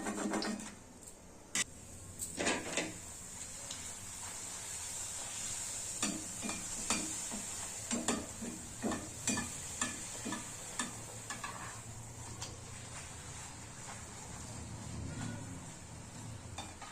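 Puri frying in oil in a home kitchen, with steady sizzling broken by scattered sharp ticks and taps from a ladle or turning, close and moderately loud.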